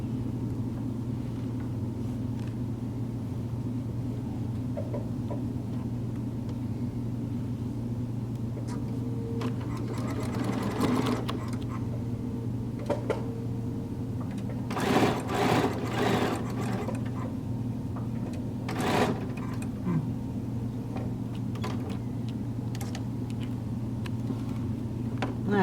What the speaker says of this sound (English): I'm just going to sew these two ends together.